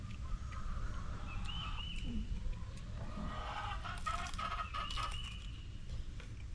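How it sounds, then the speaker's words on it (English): Farm chickens squawking and clucking near heirloom corn, a busy mix of calls and a brief crow over steady outdoor background noise, moderately close. "Those chickens over there just are squawking."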